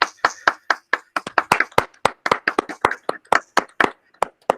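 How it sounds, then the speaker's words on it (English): A few people clap for newly elected officers at a task force meeting, a sparse, uneven patter of distinct close claps rather than a full ovation, with no talking. "let us all give some applause for our new"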